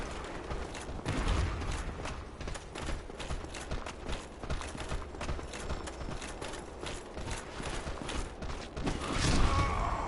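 Chaotic combat audio from the video game Dark Souls Remastered, with a sorcerer's cannon firing amid a dense, continuous clatter of impacts and mechanical noise. The level stays loud throughout and swells near the end.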